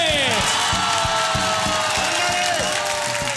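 Studio audience on a Chilean TV game night show applauding and cheering for the men, a loud, dense crowd roar with rhythmic clapping that holds steady throughout.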